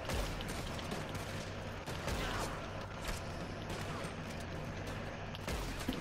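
Rapid bursts of sharp pistol gunshots from a video game, popping repeatedly against a busy background of mechanical noise.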